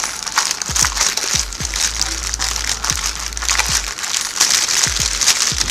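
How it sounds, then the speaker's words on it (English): Knife slicing through sprouted whole wheat pocket bread, a close run of soft crunching, crinkling cuts repeating at an uneven pace. "I'm just going to cut them in half"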